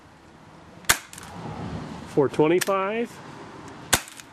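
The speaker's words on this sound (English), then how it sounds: "we're going to be shooting the WinGun CO2 pistol with .25 BBs" WinGun M702 CO2 airsoft revolver firing .25 BBs at a chronograph, two sharp, loud single shots about three seconds apart, with a person speaking briefly between them.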